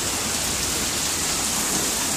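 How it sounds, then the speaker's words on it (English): Heavy, dense rain pours down in Gladstone, Missouri during a flash-flooding storm, a loud unbroken roar of drops on surfaces throughout with no talking. "It is raining a lot,"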